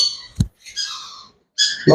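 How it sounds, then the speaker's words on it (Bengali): A blue conure parrot, among baby birds kept for sale, gives a few harsh, close squawking calls separated by short silences. A sharp knock is heard near the start. "প্রথমে শুরু করলাম ব্লু কনুর দিয়ে সব থেকে কালারফুল একটা পাখি ব্লু কনুর"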